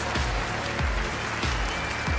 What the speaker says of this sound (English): let's get a round of applause for this production team working tirelessly to give you the show you deserve